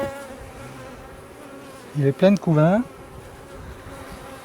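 Honey bees hum in a steady, close drone during an open beehive inspection of eight frames, with someone speaking briefly over the buzzing.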